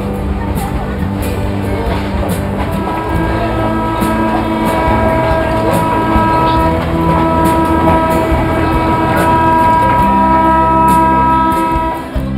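A passenger train in northern Brazil, Bahia, rumbles steadily and loud from on board, with a continuous droning hum and mechanical whine and occasional faint clicks over the whole stretch.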